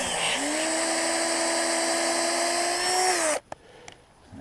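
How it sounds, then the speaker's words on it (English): A DeWalt cordless drill bores into a maple tree to tap for sap, a steady high whining drone held for about three seconds before stopping abruptly, followed by a few faint clicks, close and loud. "I'm curious to see how much better my new drill does than what I was using previously"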